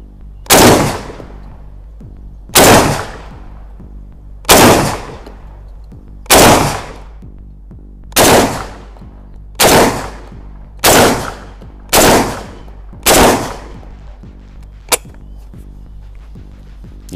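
Kral Arms Tavor-style bullpup shotgun fires nine loud, sharp shots in a steady, fairly even rhythm about two seconds apart, each blast decaying quickly, with a faint click near the end and no talking.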